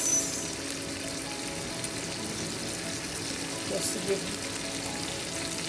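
Garlic and banana peppers fry beside steak in a pan, giving a soft, steady sizzle that stays fairly quiet throughout while a voice talks briefly over it.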